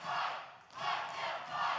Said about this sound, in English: the crowd obviously not happy, chanting, let them fight here